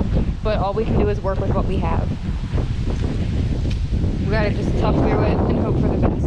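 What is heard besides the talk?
wind blowing outdoors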